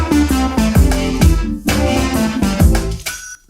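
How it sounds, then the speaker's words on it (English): A Logic ES2 software synthesizer, processed to sound rich and expensive, plays loud, full chords over a punchy repeating bass, ending in a brief fading tail. "we're gonna make this synthesizer"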